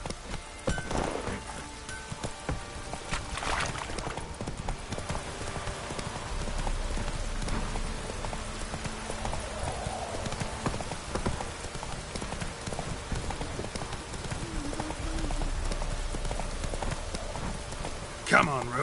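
Roach, a horse in The Witcher 3, gallops in a steady clip-clop of hooves that runs throughout, with rain pattering underneath and occasional game sounds layered over the hoofbeats.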